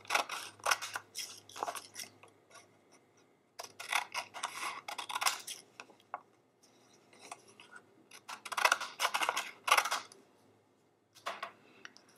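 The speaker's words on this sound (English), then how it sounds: "I'm just going to have to cut that edge just a little bit." Scissors cut a paper candy corn shape for a Halloween greeting card in several bursts of crisp, close snipping and crunching, separated by short quiet pauses.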